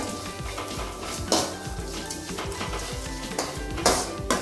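Gooseberries fry in a pan with a crackling sizzle, interrupted by the scrape and clink of a spoon stirring against the metal.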